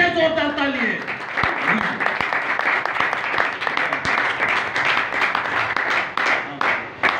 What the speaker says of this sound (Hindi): यीशु मसीह के एक बार फिर से जोरदार तालियां।